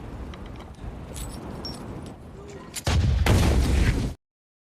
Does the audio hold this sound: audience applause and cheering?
no